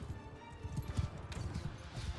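Horses galloping in the video game Mount and Blade II: Bannerlord, a dense rumble of many hoofbeats thudding continuously and close, with battle noise mixed in.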